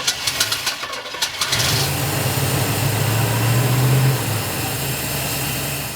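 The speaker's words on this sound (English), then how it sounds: "with the initial fire up of our FiTech unit, that verifies that we've got everything hooked up and it's ready to rock" A 1971 Chevy C10 engine with a FiTech Go Street EFI unit cranks with rapid chugging for about a second, then catches and settles into a loud, steady idle.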